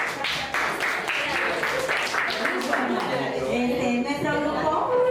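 Audience at a teachers' workshop applauds, a moderate patter of clapping mixed with chuckles and murmured chatter from the room, steady for several seconds.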